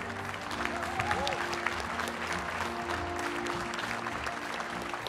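A convention audience applauds candidates being introduced, a moderate, continuous patter of clapping from a crowd with a faint hum and murmur underneath.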